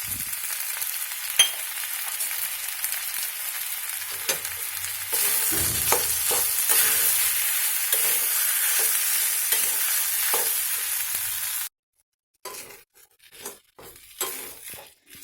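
Green rice pulao is stirred and mixed in a hot pan, giving a steady sizzle together with scraping and soft clinks of the spoon. It grows louder halfway through, then cuts off and turns into a few scattered stirring sounds.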